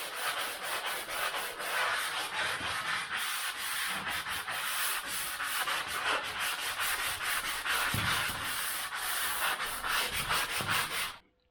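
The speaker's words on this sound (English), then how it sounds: "As I've been sanding" Rhythmic back-and-forth rasping of sandpaper rubbed by hand over wood, close and continuous, with quick regular strokes until it stops.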